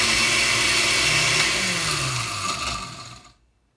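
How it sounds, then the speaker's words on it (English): A kitchen blender on its chop setting grinds Oreo cookies for a no-bake chocolate cake, a loud steady motor whir with gritty chopping noise that holds for about three seconds, then slows and cuts off into silence. "I just pressed the button on chop, and then we helped our Oreo be blended."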